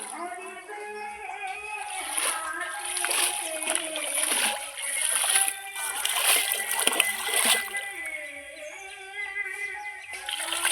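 Splashing and sloshing water as chicken skin or meat is rinsed in a village pond, with irregular close splashes and rippling water continuing throughout, and a voice talking faintly in the background.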